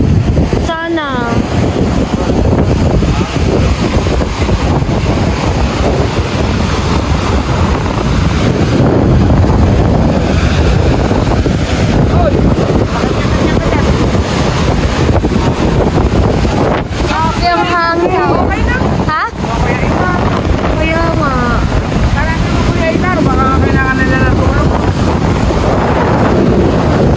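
Typhoon wind batters a boat at sea, a loud constant roar of gusts and wind noise on the microphone over surging waves, with voices shouting briefly near the end.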